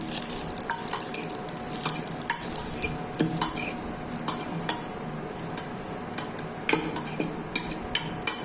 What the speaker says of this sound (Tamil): எல்லா பொருட்களையும் சேர்த்துட்டு நல்லா அதை கிண்டிவிடுங்க